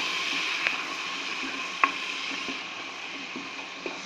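Curry leaves and bay leaf with turmeric sauté in hot oil over a high flame, giving a soft steady sizzle broken by a few sharp clicks of a spoon stirring against the pan.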